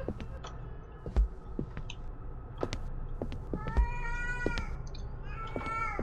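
Cat meowing repeatedly in the indie horror game Erie, a series of drawn-out, rising meows that grow more insistent toward the end over low ambient hum and a few soft clicks.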